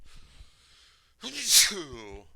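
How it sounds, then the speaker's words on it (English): One sharp human sneeze bursts out close to the microphone after a quiet breathy lead-in, loud and sudden, then trails off into a soft exhale. "Apologize for that sneeze."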